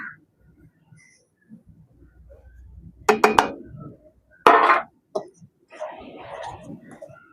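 A metal pan clanks and clinks as it is set down on a kitchen stove to heat while making Jaffna rulan toffee, with two sharp knocks among quiet handling noises and brief speech.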